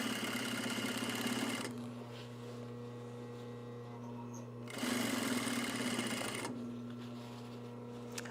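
An electric sewing machine stitches a shoulder bag in short bursts, with two steady runs of motor hum about three seconds long separated by quieter pauses, close and alone.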